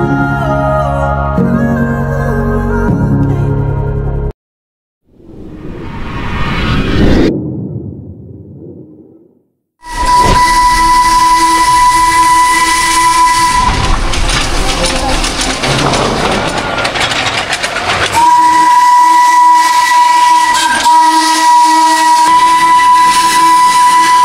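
The Darjeeling toy train sounds long, sustained whistle blasts at close range after a brief stretch of music and a short silence, with a steady background roar between blasts.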